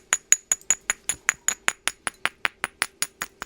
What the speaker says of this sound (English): Using it with hammer stones